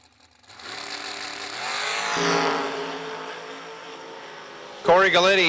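Drag race car engine revving at an FTD Customs end-of-year event, a loud sustained roar that rises, drops and surges back, under a commentator's voice.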